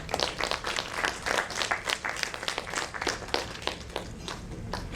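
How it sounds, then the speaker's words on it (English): Conference audience applause for a speaker, dense irregular clapping from many hands, fairly close and sustained for the whole stretch without fading. "A big round of applause for Mr. Abhishek Gupta."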